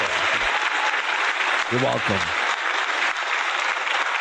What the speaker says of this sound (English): there's already an applause hit